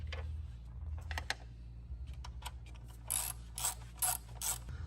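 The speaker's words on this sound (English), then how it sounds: "in order to open you need a ratchet, the Allen key" A ratchet loosening the engine cover bolts on a BMW, heard as quiet repeated clicking in short bursts over a steady low hum.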